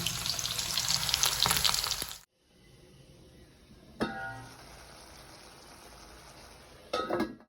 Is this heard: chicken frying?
yes